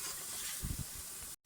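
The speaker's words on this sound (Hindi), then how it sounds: "अब मुझे इसे दही के साथ बहुत ही अच्छे तरीके से भूनना है" Beef korma sautéing with yogurt in a pot gives a steady, close hiss and sizzle, with a few low stirring thumps midway, and the sound cuts off abruptly near the end.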